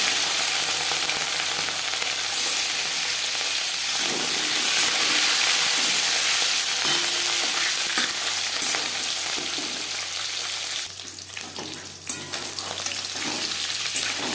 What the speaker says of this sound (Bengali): রিফাইন্ড অয়েল গরম করে নেওয়ার পর দিয়ে দিলাম ম্যারিনেট করে রাখা মাছ